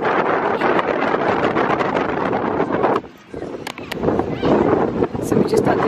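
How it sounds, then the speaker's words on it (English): Steady seaside wind at an aquarium in Malta buffets the microphone with a broadband rumble that drops briefly midway, then returns just as strong. "Very windy"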